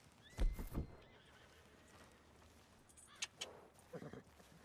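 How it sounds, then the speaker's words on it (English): Horse in Red Dead Redemption 2 gives a loud whinny followed by scattered hoof clops and light tack jingles, set in an open outdoor game scene. "Are you gonna mount that new horse of yours or not?"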